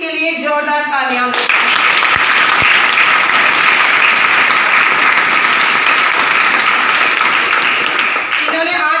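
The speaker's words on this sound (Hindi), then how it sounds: "मेरी प्यारी सी टीम के लिए जोरदार तालियां" A thunderous burst of audience applause at a business team gathering, starting abruptly after a woman's speech and holding dense and loud for about seven seconds before her voice returns at the end.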